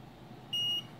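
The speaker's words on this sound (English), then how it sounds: "it beeps, it says booting on screen, and that's where it stays" An MKS TFT control board from a 3D printer gives a single short, clear electronic beep on power-up, a steady tone lasting about a quarter second over faint background hiss.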